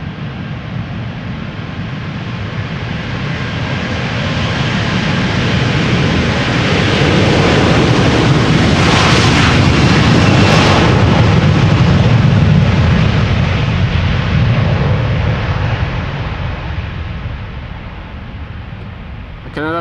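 Air Canada Airbus A330-300, fifteen years old, departing Amsterdam Schiphol for Toronto: a powerful jet roar swells from a steady rumble to a loud, close peak midway, then gradually fades as the aircraft climbs away.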